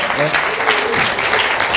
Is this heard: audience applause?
yes